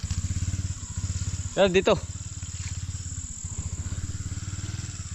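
Motorcycle engine idling close by with a rapid, steady putter throughout, under a brief burst of speech and a constant high-pitched insect-like whine.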